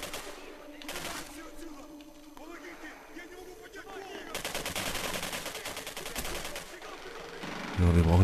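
Bursts of automatic gunfire in the Singularity video game, rattling in rapid strings at moderate distance over a German-speaking voice, with heavier firing and a deep thump toward the end.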